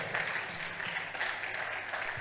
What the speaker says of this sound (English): can we give him another resounding round of applause?